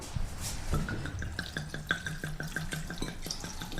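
Dry white Gaillac wine pours into a pot while preparing coq à l'ail, a short liquid splash followed by a run of quick regular drips and trickles, close and fairly clear.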